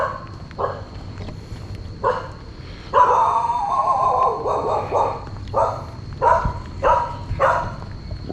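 A guard dog barks near and loud in a string of sharp, repeated barks with short gaps between them, sometimes grouped in quick bursts, with a few whimpering yips mixed in.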